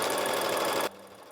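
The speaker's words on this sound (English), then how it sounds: "let's go to the sewing machine" Sewing machine stitching a quilt panel to a fabric strip with a quarter-inch seam, a loud close whirring run that stops abruptly partway, leaving a quiet hum.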